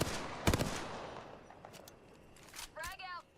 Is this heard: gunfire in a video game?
yes